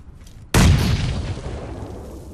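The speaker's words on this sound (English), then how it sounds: "That was a grenade" A grenade in Battlegrounds detonates with a sudden loud boom after a quiet moment, then a long rumbling tail fades slowly.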